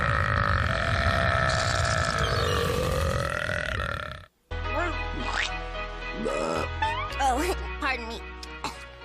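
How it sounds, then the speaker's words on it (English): A cartoon female character lets out a long, loud belch over the first half, then after a brief gap a burst of music with sliding cartoon sound effects takes over. "your burps are like the sweetest"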